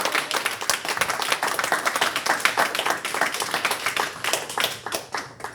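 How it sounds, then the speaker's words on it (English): An audience claps for a newly certified Eagle Scout at his court of honor, a lively run of individual hand claps merging into applause that fades slightly toward the end. "Now everybody can clap."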